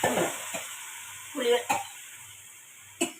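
Tamarind water going into a sizzling pan of kara kuzhambu, with a few short bursts of sizzle and stirring separated by quiet gaps; close and fairly soft.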